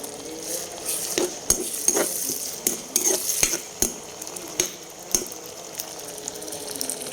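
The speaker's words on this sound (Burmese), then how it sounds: "မယုတ်ကြီးနဲ့ကြက်တုံးစိမ်းနဲ့ငရုတ်ကြီး ကိုဒီမှာတော့ထည့်ပြီးတော့ ကြော်တာ" Chicken pieces, whole chilies and vegetables fry in a pan, with brisk irregular clatter and scraping of stirring over a steady sizzle, close by and fairly loud, with no voices.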